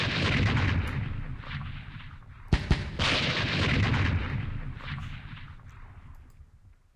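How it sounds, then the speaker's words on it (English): Mortar shelling in the war strategy game Campaign Series: West Front. A low, rumbling wash of battle noise is broken by a couple of quick sharp blasts near the middle, then the rumble slowly fades. "Yeah, just shell him."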